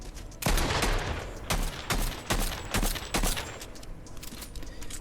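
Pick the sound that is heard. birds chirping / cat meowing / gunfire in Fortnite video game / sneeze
gunfire in Fortnite video game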